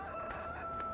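A rooster crows in a short burst in the video game Farming Simulator 2013, with a steady tonal hum running underneath.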